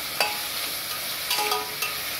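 Onions sauté in a pan for mushroom biryani, a constant close sizzle broken by a few light scrapes and clicks of stirring.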